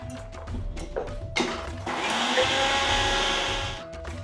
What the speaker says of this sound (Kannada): ಪೈನಾಪಲ್ ನುಣ್ಣಗೆ ರುಬ್ಬ ಕೊಟ್ಬಿಟ್ಟು ಈ ಬವಲ್ಗೆ ಸುರಿದ್ಬಿಡೋದು